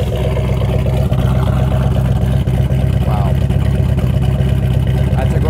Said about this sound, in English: Come around back and let's listen to the exhaust.